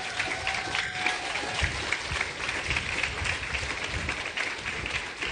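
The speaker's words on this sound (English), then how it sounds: "I think Kayla deserves a round of applause." Sustained applause from a graduation ceremony audience honouring a graduate, a dense steady wash of many hands clapping throughout, with a faint tone briefly audible near the start.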